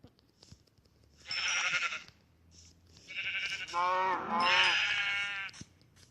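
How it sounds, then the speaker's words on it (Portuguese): Sheep in the video game Minecraft bleat several times in a row, wavering calls that overlap near the end, loud and close over a quiet game background. "Nossa, caraca, olha o tanto de ovelha."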